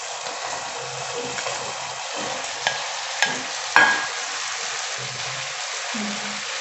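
Fried chicken pieces being stirred into garlic sauce in a hot pan: steady close sizzling with repeated scraping stir strokes and a few sharp utensil clinks against the pan, no talking.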